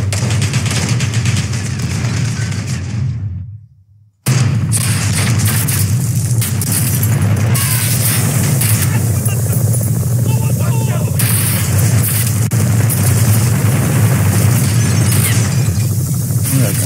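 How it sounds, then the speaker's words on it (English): Gunfire and explosions in Call of Duty: Modern Warfare (2019), a dense loud barrage that cuts out abruptly for a moment and then resumes, with voices heard underneath. "Shooting through the fucking wall."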